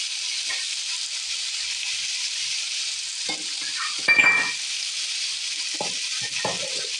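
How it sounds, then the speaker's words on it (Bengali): Potatoes with turmeric sizzle and fry in a pan under a steady hiss, with a few scrapes and stirring clatters breaking through, loudest about two-thirds of the way in. "হলুদ দিয়ে আলুটা ভেজে নিলাম।"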